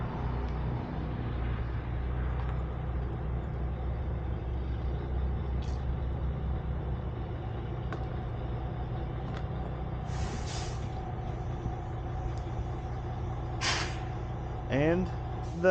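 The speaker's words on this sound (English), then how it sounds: "And the parking brake works now." Truck air parking brake engaging on a repaired vehicle, with a low idling engine rumble throughout and short sharp hissing air bursts near the end, plus a brief squeal.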